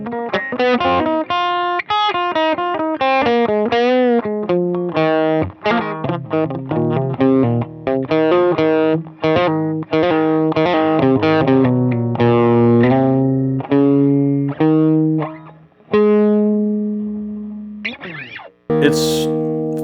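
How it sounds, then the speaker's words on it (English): Electric guitar played through a cranked Azor distortion pedal, a budget Amazon unit: loud, buzzing driven notes and chords in a continuous riff, with sharp attacks and brief gaps, ending on a bright scrape. "This is a very mild distortion"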